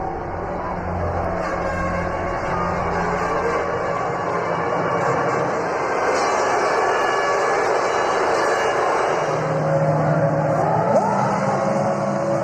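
Formula 1 cars racing at the 2005 United States Grand Prix at Indianapolis with only six cars running: Ferraris, Jordans and Minardis. A steady, loud engine roar fills the track throughout, with high engine whine and shifting pitch as cars pass.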